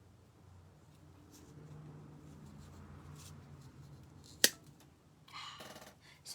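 Scissors snip through nautical rope in a quiet room: one sharp, bright cut stands out after faint rustling, followed by a short burst of crisp rustle and scraping.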